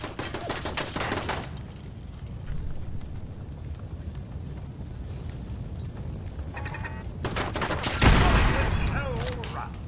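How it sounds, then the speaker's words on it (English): Gunfire in a Fallout-style wasteland game, heard as bursts of rapid shots near the start and again later, with a louder blast near the end, over continuous background noise and occasional talk. "Here's someone is shooting."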